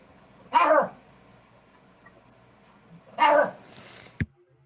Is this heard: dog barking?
yes